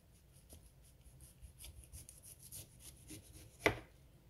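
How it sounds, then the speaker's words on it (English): Cabbage being shredded finely with a knife for spicy Haitian pikliz coleslaw, a soft run of quiet rasping cuts ending in one sharper knock on the board, close and faint. "I'm gonna show you how to cut this, how to shred it."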